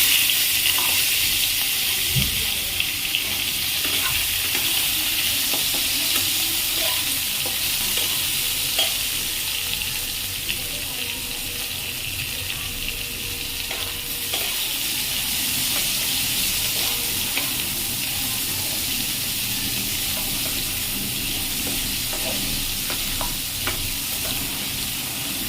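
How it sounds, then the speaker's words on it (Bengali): Small chopped potato pieces fry in hot oil with chilli tempering for a Bengali pumpkin-greens chachchari, giving a steady, close sizzle with occasional stirring scrapes and clicks throughout, no voices. "আলুগুলো ভাজা হোক, একটু আলুগুলো ভাজা ভাজা হবে।"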